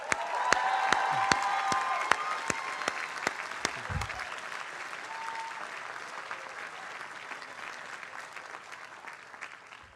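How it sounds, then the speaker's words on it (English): Sustained audience applause at a commencement ceremony, a dense wash of many hands clapping with a few sharp, louder claps standing out near the front, steady throughout and fading slightly toward the end. "they deserve a huge round of applause"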